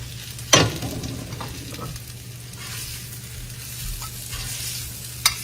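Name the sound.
pork belly searing in hot cast iron skillet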